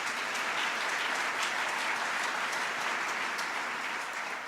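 Audience at a State of the City address in Buffalo applauds steadily, a dense, even wash of clapping that holds at full strength throughout with no voices over it.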